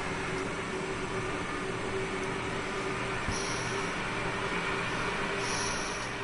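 BR155 electric locomotive in Train Sim World 3 on the Bremen–Oldenburg line in northern Germany, giving a steady droning hum with a constant electrical whine, running continuously with no talk.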